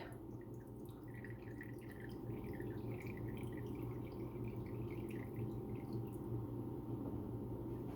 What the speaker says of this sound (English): And I'm going to let it drip a little bit.